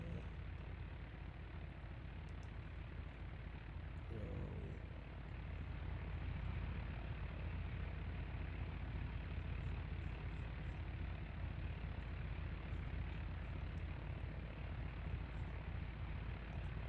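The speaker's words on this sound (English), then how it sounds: "I want you to hear the sounds of the engine, because it is a pretty cool sound" Propeller aircraft engine in the flight simulator X-Plane 11, a steady, droning hum held at a constant level throughout, with no talk over it.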